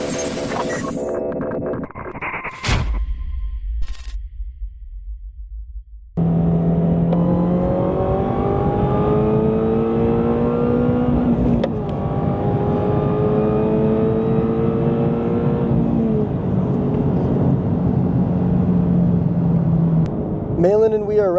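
A supercharged car, the purple shop car or Harrop-equipped BRZ, accelerates hard from 60 to 100 mph, its engine droning and climbing steadily through long rising pulls with a gear change, loud and continuous inside the cabin after a brief quieter start.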